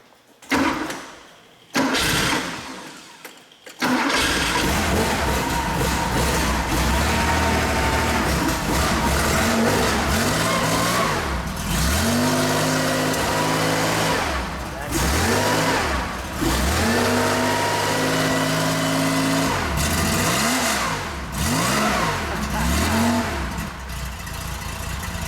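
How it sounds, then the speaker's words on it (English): A 1967 Porsche 911 Targa cranks over a few times, fires up and settles into a steady idle, then revs repeatedly in rising and falling surges, captured loud and close beside the exhaust. "Fire this up. She fires right up."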